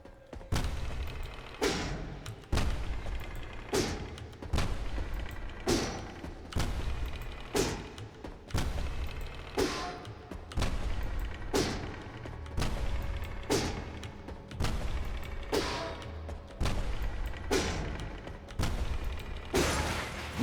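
Turrets being pounded by gunfire in the game Vaporum Lockdown, a steady series of heavy thumping impacts roughly every second with metallic creaks between them, close and fairly loud.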